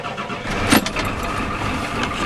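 A Ford 7.3L diesel engine cold-starting: a short cranking burst catches and settles into a loud, rough, steady diesel idle close by.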